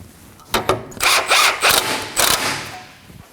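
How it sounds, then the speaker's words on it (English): A ratchet wrench with a 22mm socket snugging up the tie rod nut on a 2014-2020 Acura MDX, giving a few bursts of close, loud rapid clicking. "Now we're gonna snug it up using a 22mm socket."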